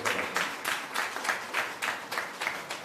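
A crowd at the opening ceremony of a hospital's high dependency unit applauds steadily, the clapping swelling in rhythmic waves throughout.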